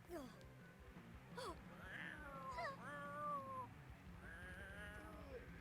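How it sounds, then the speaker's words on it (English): A cat meows repeatedly in the video game Torture Simulator, with several rising and falling cries at low volume over background game sounds. "What is that meow? It's like meow, meow."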